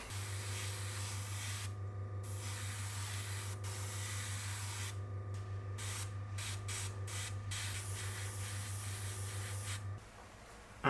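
Kaleido acrylic metalizer titanium alloy paint sprayed from an airbrush in a long steady hiss, briefly interrupted by a few short pauses, over a constant low compressor hum that cuts off near the end.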